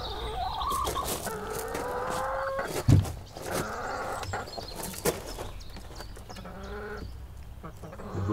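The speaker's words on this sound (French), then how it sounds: "Elles sont belles, tes poules." Hens in a backyard coop at a residence cluck and squawk in busy, overlapping bursts, with a sharp louder call near the three-second mark, while people chat nearby.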